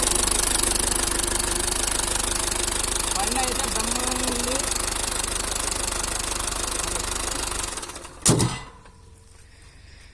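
A 2013 Tata Sumo Gold diesel SUV engine idles steadily with a low rumble while a person speaks, then a sharp thump cuts in and the engine noise drops away.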